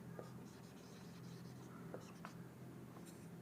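A pen scratches faintly on paper in short strokes while physics problem data is written out, with someone speaking quietly over the writing.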